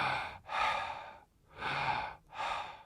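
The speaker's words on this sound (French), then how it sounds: "On va respirer plus que de raison." Deep, rapid connected breathing, close and loud, with three long forceful breaths in and out flowing into each other without pause.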